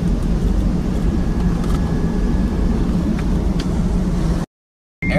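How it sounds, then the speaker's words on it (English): Steady, loud broadband rumble of a private jet's engines heard from inside the cabin, a constant airy drone with no talking, cutting off abruptly to silence near the end. "We on a private jet."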